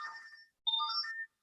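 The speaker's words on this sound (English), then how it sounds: "my phone was going off" Mobile phone ringtone going off during a lecture: two short electronic melodic phrases separated by a brief gap, moderately quiet and clean, with no voices.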